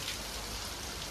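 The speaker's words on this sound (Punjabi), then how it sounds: "ਗੋਆ ਚ ਮੀਂਹ ਬਹੁਤ ਪੈ ਰਿਹਾ, ਬਹੁਤ ਜ਼ਿਆਦਾ" Heavy rain in Goa, a dense, steady hiss of drops falling on surfaces, constant and unbroken with no voices.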